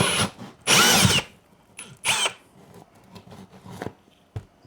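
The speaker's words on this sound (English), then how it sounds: "Let's get to drilling this hole in the wall." A power drill whines in short loud bursts, stopping and starting several times with gritty grinding between runs as it bores a hole through a tiny house wall, close by.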